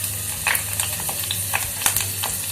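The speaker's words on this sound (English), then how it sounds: "Once the oil is hot, add 3 to 4 cloves of garlic" Garlic cloves sizzle in hot oil in a pan, a soft, close crackle with scattered sharp pops and faint stirring scrapes over a low steady hum.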